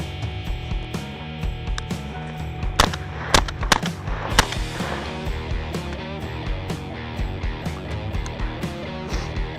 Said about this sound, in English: Right now I'm going to use birdshot, and I got a bit closer because I've got a cylinder choke on here.